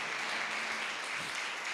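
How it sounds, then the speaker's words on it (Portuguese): A church congregation gives a steady burst of applause, many hands clapping together in a dense, even wash of sound throughout, with no voices standing out. "dê uma linda salva de palmas ao Senhor"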